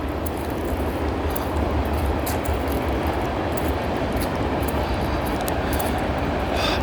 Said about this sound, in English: there was a train going by, and this is a second train